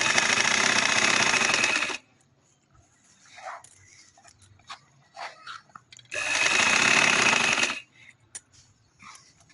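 A sewing machine stitches a seam on thick fabric for a belted short frock, running in two loud, steady bursts of about two seconds each. Between the bursts come quieter handling noises and clicks.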